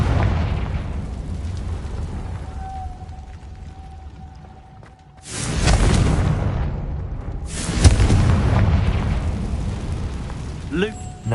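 Confringo blasting spell fired in Hogwarts Legacy, two loud roaring explosive blasts a couple of seconds apart over a rumbling game soundscape.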